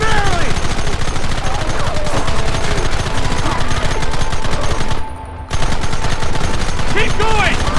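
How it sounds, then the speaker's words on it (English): Gunfire in the Red Dead Redemption video game, loud rapid bursts of shots and machine-gun fire in near-continuous volleys, briefly cutting out once before resuming, with game sounds mixed in. "Targets on the horizon. Fire at will!"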